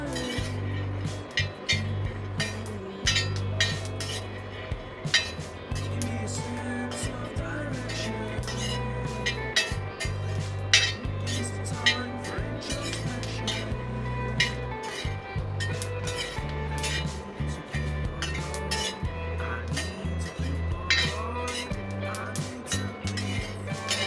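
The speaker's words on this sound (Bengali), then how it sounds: "আমার বাদামগুলো প্রায় ভাজি হয়ে গেছে, আর সামান্য কিছু সময় ভাজি করে নিব।" Peanuts roast and are stirred in a pan, making a dense, continuous rattle of small clinks against the metal over a steady low tonal hum.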